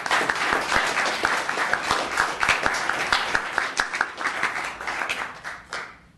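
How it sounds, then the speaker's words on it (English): Applause from the audience at a town council meeting, many hands clapping in a steady, dense patter for about six seconds before tapering off near the end. "let's give a round of applause to the business of the month."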